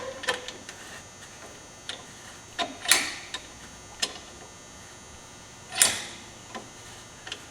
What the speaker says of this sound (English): putting this C-clamp on here and pushing the piston back in the caliper